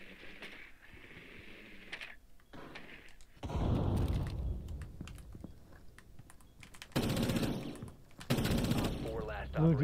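Video game gunfire comes in bursts, with loud crackling volleys around four, seven and nine seconds amid quieter clicks and keyboard-like tapping, while players talk between the shots.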